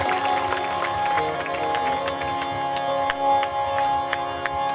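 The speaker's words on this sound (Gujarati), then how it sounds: "જોરદાર તાળીઓ વગાડો" Audience applause at a Shreemad Bhagavat katha gathering in Chivad: a steady crowd clapping continues throughout, dense and sustained, with sharp individual claps standing out over a background of music or amplified tones.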